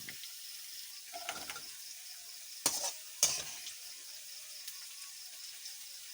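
Potatoes frying in hot oil in a home kitchen give a faint, steady sizzle, broken by a few louder bursts of stirring and scraping.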